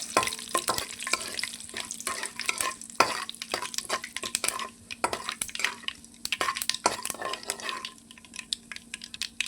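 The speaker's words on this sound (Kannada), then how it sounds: "ಈಗ ಇದನ್ನು ಒಂದು ಸ್ವಲ್ಪ ನಾನು ಕೆಂಪು ಬಣ್ಣ ಬರೋವರೆಗೆ ಸ್ವಲ್ಪ ಫ್ರೈ ಮಾಡ್ಕೊಳ್ತಾ ಇದ್ದೀನಿ." Urad dal frying in oil in a pan until reddish, stirred with a utensil: close, steady sizzle broken by frequent scraping and clinking strokes against the pan, with no voices.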